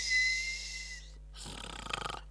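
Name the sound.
wife snoring, comedy sound effect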